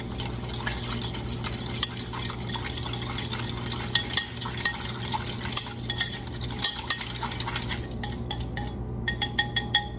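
A small flat wire whisk stirring sugar and salt into lime juice in a bowl for a watermelon salad, busy scraping and rapid light clinks against the bowl, with sharper taps toward the end, close and without talk.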